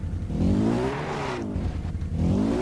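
A car drives in Far Cry 3, its engine droning close and loud with pitch rising and falling as the vehicle speeds up and eases off, with no talk over it.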